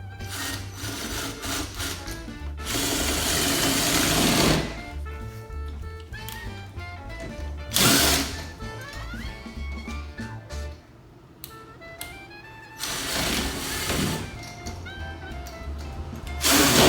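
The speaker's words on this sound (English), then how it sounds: "I just like to use a drill, it's faster." A power drill drives screws into a doorknob lock, whirring in three loud bursts of a few seconds each, separated by quieter stretches of handling noise.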